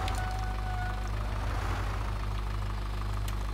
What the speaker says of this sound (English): And they're liking going up and down the road with diggers and rollers and dumper trucks.